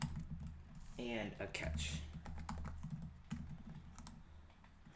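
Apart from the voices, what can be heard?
typing on a computer keyboard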